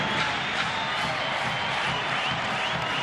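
Big baseball stadium crowd of about 15,000, many on their feet clapping and stomping, a steady dense roar of applause and cheering that fills the whole stretch without a break.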